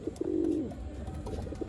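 Pigeons kept for sale in Bangalore coo nearby, with a clear throaty coo rising early and softer bird murmurs and small rustles following over a quiet background.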